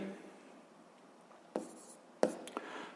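A pen writes quietly on paper in short, faint scratching strokes, with a couple of sharper taps near the end and soft background hiss.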